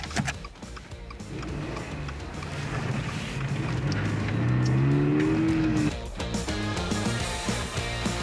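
A Subaru 2.4-litre horizontally opposed boxer four-cylinder engine growls steadily at close range, rising in pitch as it revs up and then settling back, with a low rumbling tone throughout.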